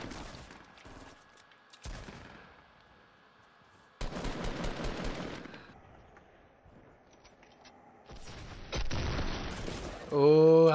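Gunfire in the Fortnite Save the World video game: bursts of shots and loud blasts in several clusters, mixed with game effects and some talk between players.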